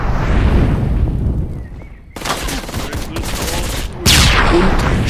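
Rapid bursts of Gatling gun fire in the motorcycle action video game Ride to Hell, loud and dense with short breaks, mixed with other game noise.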